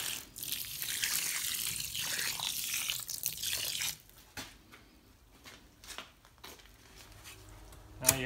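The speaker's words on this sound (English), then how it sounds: "Now you just add water." Water poured into a pre-blended, low-slump concrete block mix for antique rockface blocks, a loud steady rush for about four seconds, then quieter scattered splashes and crinkling, ending with a sharp burst.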